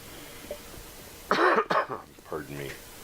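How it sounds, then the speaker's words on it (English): A couple of harsh, throaty coughs break out, followed by a short stretch of a person talking while playing 7 Days To Die. "Stupid cough, I wish it would go away"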